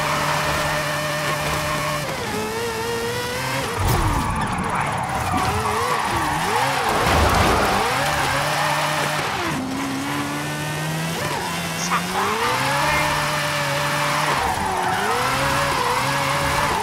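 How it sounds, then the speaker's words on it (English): A car drifts downhill in the video game Forza Horizon 5, engine revs rising and falling in repeated swooping sweeps with tire skid noise, loud and close, no talk over it. "Ooh, I'm gonna so drift downhill."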